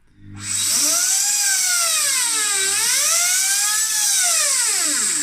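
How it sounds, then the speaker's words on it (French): A Maturbine stone-drilling machine bores into stone with a loud, sustained high-pitched whine that starts abruptly and wavers up and down in pitch as the bit works in a circular motion, alone without talk. "Maintenant, je vais faire le mouvement circulaire et commencer à rentrer dans la pierre."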